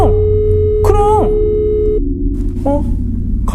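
A telephone call abruptly cut off, producing a steady electronic disconnect tone that holds for about two seconds before stopping, while voices speak over it with eerie pitch-bent effects.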